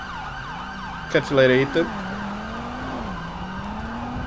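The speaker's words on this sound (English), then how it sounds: "Alright, here comes the ambulance." Ambulance siren in GTA 5 on a Los Santos paramedic run, a steady wailing tone sweeping up and down throughout, with a brief burst of game speech partway through.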